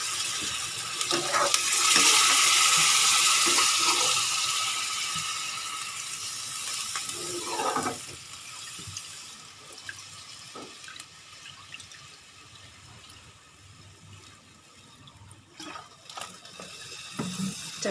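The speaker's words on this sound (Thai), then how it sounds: "จากนั้นจะเติมน้ำนะคะ" Water is poured into a pot holding pork and ginger for a simmered Thai salty pork belly dish, a steady loud splashing pour for several seconds, then quieter drips, clinks and stirring noises.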